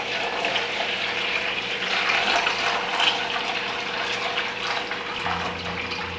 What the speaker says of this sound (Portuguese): Vou colocar água.